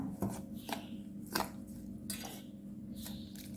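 Ripe jackfruit fritter batter with turmeric is mixed with water in a bowl, giving close, intermittent spoon clinks and soft wet squelches at an uneven pace, with no talking.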